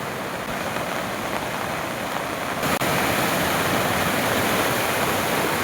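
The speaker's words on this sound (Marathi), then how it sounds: "बघा मित्रांनो, नदीचा प्रेशर किती आहे." A river in full flood after the first monsoon rain, rushing water roaring as a loud, steady, broadband wash that continues without a break throughout.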